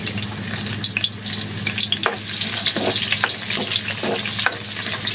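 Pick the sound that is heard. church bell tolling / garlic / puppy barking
garlic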